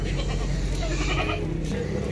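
Goats bleat over the steady din of a crowded livestock market holding about a hundred goats before the Eid sacrifice season, with continuous background noise and murmuring voices throughout.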